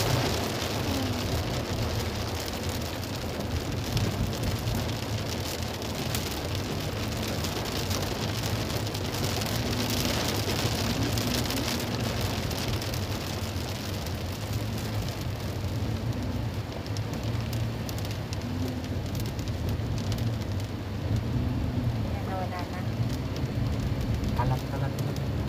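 Heavy rain with big drops pattering densely on surfaces close by, a steady crackling downpour lasting throughout with a low rumble beneath.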